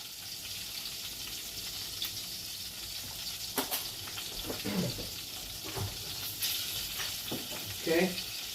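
Garlic powder frying in a pan, a soft steady sizzle up close with occasional stirring scrapes and clinks, no voices.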